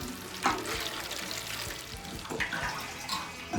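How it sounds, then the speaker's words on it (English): Water poured from a watering can onto freshly seeded beetroot in a garden bed, a steady wash of splashing and trickling with a few brief louder spatters. "Get my trusty watering can."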